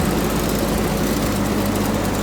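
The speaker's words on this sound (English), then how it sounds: "these Ford tractors are beautiful. If you keep them on the 6-volt, I think they sound even better" A Ford 8N tractor running on a 6-volt system idles steadily, a continuous low chugging rumble close to the microphone, even and unbroken throughout with no talking.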